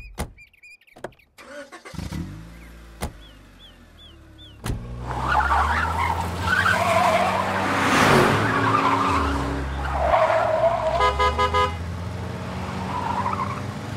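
A car speeds and skids during a chase in a Tamil movie scene, with short sharp transients at first, then a sustained roaring engine and squealing tires that swell and build, loud and close without speech.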